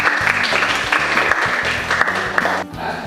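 Classroom applause after a lesson wraps up: students clapping together with a band of music or tonal sound beneath, steady and fairly loud for about three seconds before tapering off near the end.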